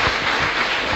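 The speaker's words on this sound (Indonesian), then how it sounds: "Berikan tepuk tangan yang mulia." A church congregation breaks into applause during a sermon, a brief, dense wash of many hands clapping at an even level.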